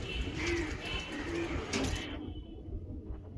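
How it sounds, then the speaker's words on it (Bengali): A female Giribaj racing pigeon coos softly a few times in short, low throaty bursts, close up, over a windy, rumbling background that cuts out abruptly near the end. "এটা মাদি কবুতর"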